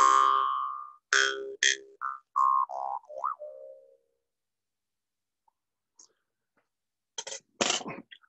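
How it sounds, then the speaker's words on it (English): A Vietnamese-style brass jaw harp gives a sustained buzzing tone, then a series of short bright twangs shifting in pitch before falling silent; a few brief breathy sounds come near the end. "a style of brass jaw harp that works on the same principle as the Philippine harps"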